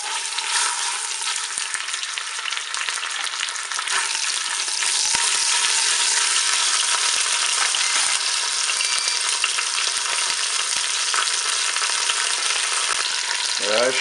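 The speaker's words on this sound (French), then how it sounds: "je vais quand même commencer à faire dorer mon rôti sur toutes ses faces" A pork roast browns in hot olive oil inside a Cookeo multicooker, giving a steady, close hiss and crackle of sizzling fat that holds evenly throughout, with no talk.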